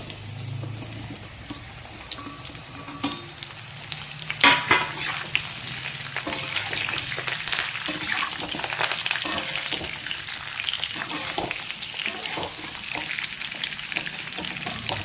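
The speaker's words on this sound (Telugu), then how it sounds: "వేసుకున్న తర్వాత దీంట్లో మనం ఈ ఆనపకాయ ముక్కలు వేసి ఒక్కసారి ఆయిల్లో వేసుకోవాలి." Bottle gourd pieces fry in hot oil with tempering and curry leaves, giving a steady close sizzle with scraping stirs and a sharp clatter just before the midpoint, continuing throughout with no talking.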